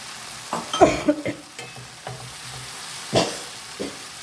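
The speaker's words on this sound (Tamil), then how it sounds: "இப்போ நம்ம செய்து வச்சுருக்க சோயா மீட் போடுறோம்." Soya meat tipped into a hot pan, with scraping and stirring clatters at the start and again later over a steady frying sizzle, close and fairly loud, no talk.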